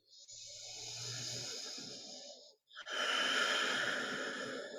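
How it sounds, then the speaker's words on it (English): Slow, deep breaths during a chair yoga session, a long steady exhale followed by a brief pause and then a full inhale, close and fairly loud with no talking. "Take one more cycle of breath."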